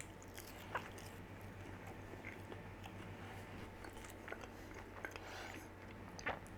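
Crispy air-fried chips are bitten and chewed, giving a few faint, scattered crunches over a quiet background hum.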